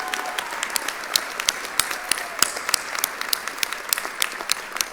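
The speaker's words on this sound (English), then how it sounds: "This is a tremendous accomplishment for our graduates and deserves a round of applause." Audience applause for graduates at Northcentral Technical College's December 2024 mid-year graduation ceremony, a steady spread of many hands clapping with sharp individual claps standing out, moderately loud and continuous for several seconds, no talking.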